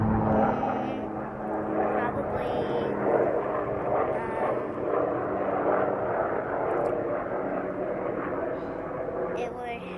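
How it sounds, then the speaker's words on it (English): An airplane passes overhead, its low, steady engine drone filling the background throughout while people talk close by. "There's an airplane apparently going by."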